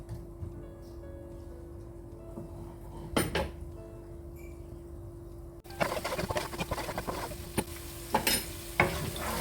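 Onions cook in a pan with a quiet sizzle, then louder pot and utensil clatter and scraping take over partway through, with several sharp knocks near the end.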